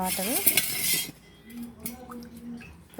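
A metal spoon clinks and scrapes briskly against a bowl while mixing baking soda and water into a paste, then the stirring goes quiet with only faint light taps after.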